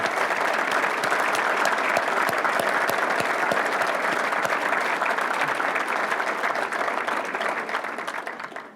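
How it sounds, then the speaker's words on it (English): A police department awards ceremony audience gives a sustained, dense round of applause for honorees' families, steady and full for several seconds before tapering off at the end. "if we can just give the families a round of applause"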